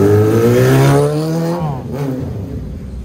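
A Yamaha RD 350 two-stroke motorcycle engine revs up loudly with a rising, buzzing pitch, holds briefly, then drops away into a lower, rougher idle as the revs fall off.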